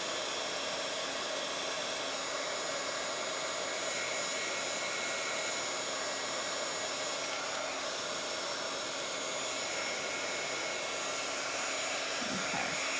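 A hair dryer blowing on a damp Bible journal page, a steady unbroken whoosh that holds close and even for the whole stretch, with no voices over it.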